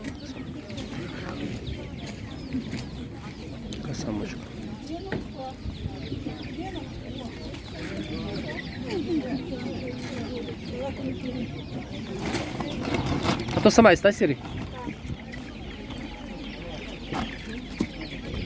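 Small chicks at a livestock market cluck and peep softly amid a busy outdoor bustle, while people nearby talk over the birds.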